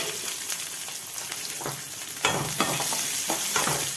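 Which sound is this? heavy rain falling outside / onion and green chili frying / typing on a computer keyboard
onion and green chili frying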